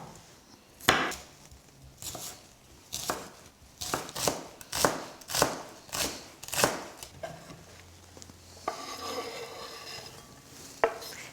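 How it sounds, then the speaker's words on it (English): A knife chops spring onions finely on a board, a quick run of sharp, close taps in an uneven rhythm with short pauses, ending in a softer scraping toss. "And so now for our spring onions, and these just have to be chopped finely as well."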